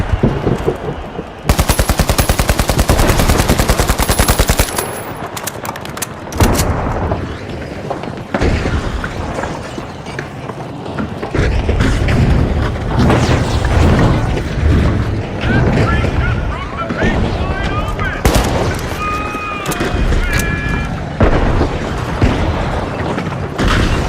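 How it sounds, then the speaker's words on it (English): Loud video game combat with a thrown frag grenade exploding amid bursts of rapid gunfire and heavy booms, dense and continuous, with a voice talking over parts of the action. "Tossing a frag."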